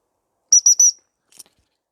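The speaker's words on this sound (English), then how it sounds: "I'm going to use my whistle." Three short, shrill dog-recall whistle blasts in quick succession, crisp and close, then near silence apart from a tiny faint chirp.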